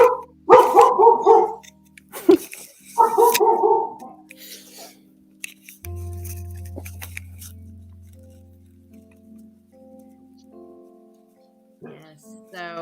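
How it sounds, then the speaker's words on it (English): A dog barks in two quick bursts of several loud, close yips, with a pause between them, followed by a steady low hum and faint background tones as the barking stops. "Those of you that know me, I do have a dog."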